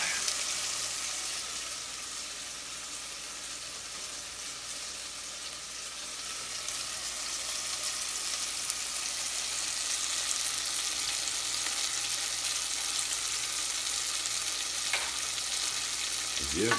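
Shallots frying in a pan beside pork chops and apple, a steady, moderate sizzle that runs continuously, with a scrape of the pan near the very end.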